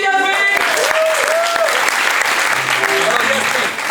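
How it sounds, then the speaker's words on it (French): An audience at an improvised theatre performance claps loudly for a participant, dense sustained applause with voices and a few whoops mixed in. "On applaudit Yasmine."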